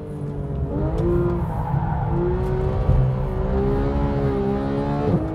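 A Porsche 991 GT3 engine, which revs to 9,000 RPM, drones loudly from inside the cabin while driving, its pitch rising and falling steadily as it accelerates, with a brief burst of tyre noise.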